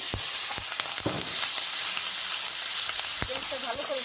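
Oil fries in a pan for a fish and ridge gourd dish, a steady hiss carrying through with a few sharp utensil clicks and a brief faint voice near the end.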